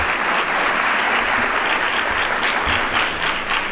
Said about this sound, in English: Please, a big applause to the admin staff as well.